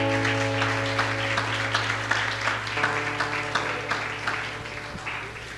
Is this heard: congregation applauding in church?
yes